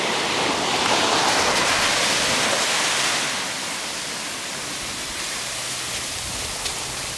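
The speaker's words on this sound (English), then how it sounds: "Jeez, this ocean keeps getting closer and closer." Ocean waves at Santa Cruz state beach, a close, continuous broadband wash of surf that swells louder early on, then settles to a steadier, softer rush.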